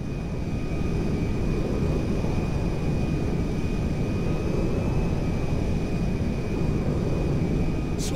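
A jet aircraft in Grand Theft Auto V drones steadily, a broad constant engine rumble with a thin whine held throughout, loud and unbroken.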